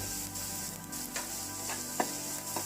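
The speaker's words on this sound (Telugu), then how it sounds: "తొందరగా ఉల్లిగడ్డలు మంచి మంచిగా ఫ్రై అవుతాయి" Onions frying in oil with salt for tomato rice, a steady close sizzle with a few soft clinks of a spoon or pan, no voices.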